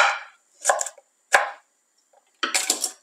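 Green beans are cut one by one with a knife, four distinct close, crisp chopping taps in an uneven rhythm with short pauses between them.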